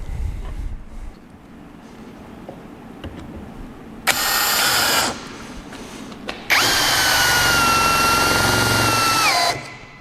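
A power drill drives a thin, long screw into soft material in two close, loud whirring bursts, a short one and then a longer run that slows slightly before stopping, with quiet workshop background between.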